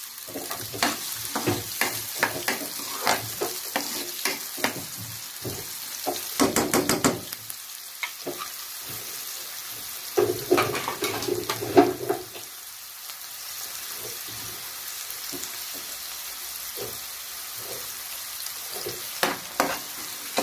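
Onion frying in a pan for roasted eggplant bharta, a continuous sizzle with bursts of rapid spoon clatter and scraping, close and moderately loud, no voices.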